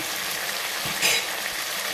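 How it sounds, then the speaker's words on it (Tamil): Steady, close sizzling of tomatoes sautéing in a hot pan, with a brief louder hiss midway. "தக்காளி நல்லா வதங்குற வத வரைக்கி வதக்கிட்டே இருங்க"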